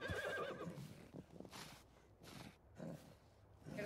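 A horse in the Red Dead Redemption video game gives a loud, close whinny at the start, followed by softer snorting and scattered breathy noises.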